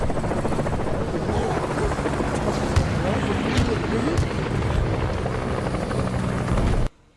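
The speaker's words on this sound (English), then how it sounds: "The chopper eventually comes and they get out safely." Helicopter rotor thudding steadily and loud throughout a scene from the monster film Cloverfield, with voices and scattered noise mixed under it before it cuts off abruptly.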